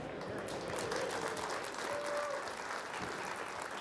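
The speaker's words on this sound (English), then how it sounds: "There's the applause." Applause rises from a darts arena audience in Las Vegas, a steady, distant wash of clapping and crowd noise with no distinct voices over it, continuous for a few seconds at low level.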